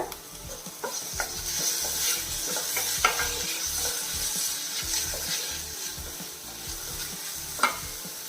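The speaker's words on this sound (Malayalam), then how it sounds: "ഒരു ചെറിയ തക്കാളി ഞാൻ ഇതുപോലെ ചെറുതായിട്ട് കട്ട് ചെയ്ത് വെച്ചിട്ടുണ്ട് തക്കാളി ഒന്ന് വാടി കിട്ടിയാൽ മതി" Finely chopped tomato sautéing in a pan over medium flame, a steady close sizzle with repeated scraping and stirring strokes and an occasional sharper clink of utensil against the pan.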